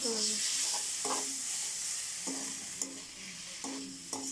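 Spices and ginger paste are stirred in a hot pan, with a steady sizzle of frying. A spoon scrapes the pan in several rhythmic strokes, close and moderately loud, with no talk.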